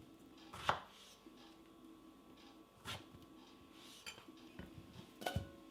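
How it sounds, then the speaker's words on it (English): A knife chops ripe hulled strawberries on a cutting board in a restaurant-style kitchen, a few separate soft thuds spaced apart, close but quiet, with faint clinks between them. "What I need for that is a few ripe strawberries which I shall hull and then chop them up."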